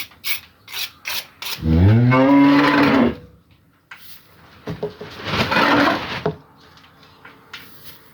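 A cow on a farm gives two loud, close moos, a long drawn-out call followed by a shorter one, with rustling and handling noises between them.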